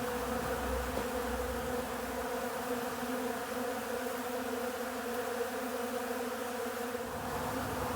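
Honey bees swarm around a hive during a robbing frenzy, a dense continuous buzz from many insects at once, steady and moderately loud throughout with no voices.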